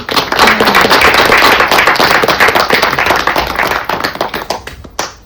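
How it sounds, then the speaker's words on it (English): Audience clapping at a poetry festival book release, a loud dense burst of many hands that thins toward the end into scattered claps. "That calls for a clapping, girl"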